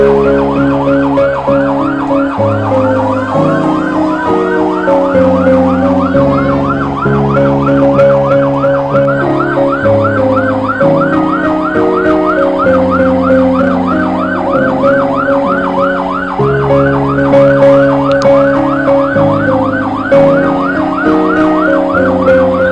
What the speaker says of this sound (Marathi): इथे अग्निशमन दलाने राजासाठी मानवंदना दिली सायरन वाजवून